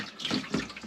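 Water runs from a tap on a motorhome or camper, a short close hissing gush with a couple of splashy surges.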